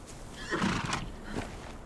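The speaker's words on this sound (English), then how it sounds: "We got a horse." A horse in the video game Conan Exiles whinnies once, a short, breathy neigh heard alone at moderate volume.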